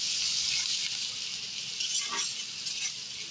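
Potatoes and onions with torn bay leaves frying in a pan make a steady, fairly faint hiss of sizzling oil, with a few light utensil clinks near the middle.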